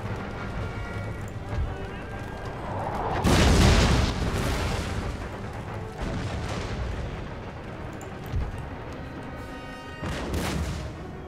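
Infantry volleys crackle across an Empire: Total War battlefield, a dense bed of musket fire and rumbling with a loud burst around the middle and another near the end, continuous under the din.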